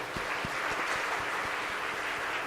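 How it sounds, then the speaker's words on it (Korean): A church congregation claps in thanks during a Sunday worship service, a dense, sustained wash of applause filling the room at a steady level. "우리가 감사의 박수를 보내면서 이제 박수 보내겠습니다"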